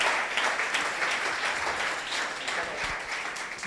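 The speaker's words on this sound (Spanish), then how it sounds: "Den un aplauso fuerte al Rey." A church congregation applauds loudly, giving a dense, continuous wash of many hands clapping with no single claps standing out and no voices on top.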